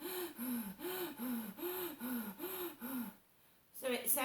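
A voice imitates someone gasping for breath down a phone line, about seven rhythmic, harsh, rasping breaths in quick succession, close and loud, then a brief pause before another gasp begins.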